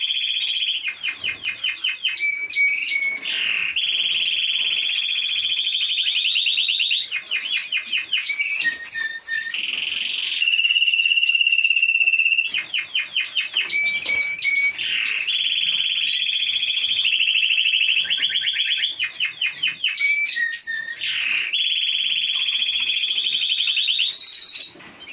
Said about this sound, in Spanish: el pájaro está muy pasado de celo, no canta igual, no emite las mismas notas